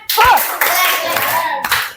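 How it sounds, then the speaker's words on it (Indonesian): A school class performs a rhythmic 'tepuk keren' clapping chant, with dense, loud hand claps and voices chanting along in a short burst. "Oke, beri dia tepuk keren."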